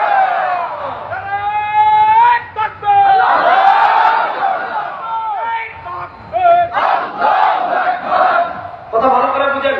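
A large crowd at an open-ground religious gathering chanting the slogan la ilaha illallah in loud unison, rising and falling in repeated shouted waves, close and full.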